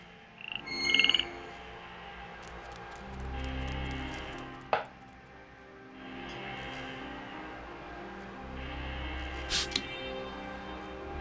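A frog croaks in the video game Milkmaid of the Milky Way, a few separate croaking calls with sharp clicks and a low musical hum underneath, with no talking.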